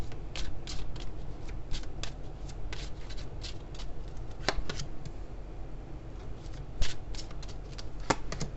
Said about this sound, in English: let me pull a couple Lenormand cards here